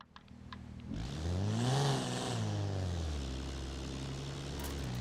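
The Regelia Type-D car engine in Forza Horizon 4 revs up to a loud, rising whine, peaks, then settles into a steady, lower drone that carries on to the end.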